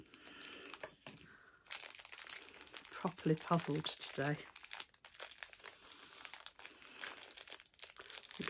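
Plastic crinkles and rustles up close in bursts as a bag is handled and opened, while someone speaks quietly.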